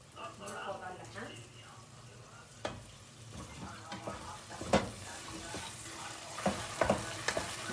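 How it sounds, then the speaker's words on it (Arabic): Onion frying on top of meat in a pot, a soft, steady sizzle with occasional spoon scrapes and knocks against the pot, fairly quiet, with faint talk in the background. "هسه هاي البصل انحمس"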